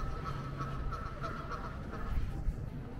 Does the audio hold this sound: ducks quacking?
yes